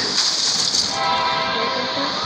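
In a video game, a passing train sounds its horn, a loud sustained blare over a rushing rumble of rail cars, brief and close.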